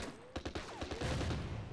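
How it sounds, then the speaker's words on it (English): French bunkers firing at infantry in the Order of Battle: Blitzkrieg strategy game, a quick rattle of several sharp shots followed by a rumbling burst, fairly faint. "French bunkers shooting at our infantry"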